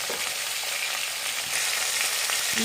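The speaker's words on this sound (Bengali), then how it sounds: "কম তেল দিয়ে সুন্দর করে মাছ ভাজা যায়" Khoira fish fries in a little oil in a pan, giving a constant bright sizzle and crackle that stays even and fairly close throughout, with no one speaking.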